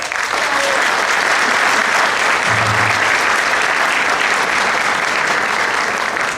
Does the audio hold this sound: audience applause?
yes